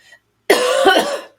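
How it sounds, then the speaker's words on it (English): A single harsh cough from a person indoors, one loud rough burst that comes abruptly after a brief silence and trails off. "I have a cough."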